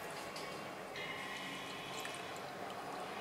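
Water is poured by the tumbler into a pot to cook prawn biryani, giving a faint, continuous splashing fill with small drips over a quiet kitchen background.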